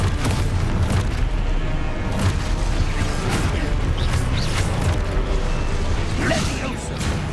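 Dense, booming impacts and whooshing spell effects from Hogwarts Legacy roll on continuously, with a low rumbling explosion mixed into the busy game combat and a voice calling out over it.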